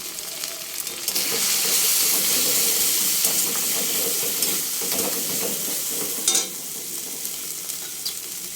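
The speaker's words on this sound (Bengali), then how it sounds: "মশলা বাটা জলটা দিয়ে দিলাম।" Spice paste water poured into a hot pan for a Bengali taro and pea curry gives a loud, steady sizzle and hiss that lasts for several seconds, with a short clatter near the end.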